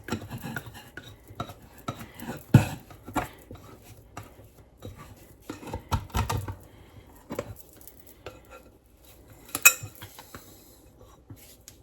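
Sourdough baguette dough is scraped out of its container onto a floured kitchen counter, soft scraping, tapping and light clattering in quiet, irregular bursts with a few sharper knocks.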